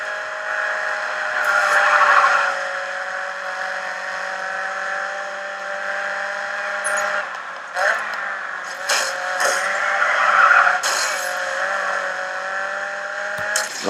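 A Nissan Silvia 4x4 races in Grid 2 with a rising and falling engine note through gear changes, accompanied by brief scrapes and skids.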